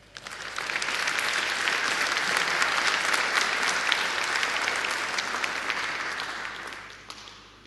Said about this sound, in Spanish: Démosle un gran aplauso, por favor.